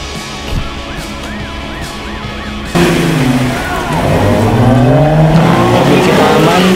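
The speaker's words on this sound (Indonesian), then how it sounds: "Ini si Hulk nih, dari Pionir Jeep," The off-road Jeep called Hulk from Pionir Jeep labors along a muddy forest track, its engine droning and revving louder midway, with wavering pitch and people talking over it.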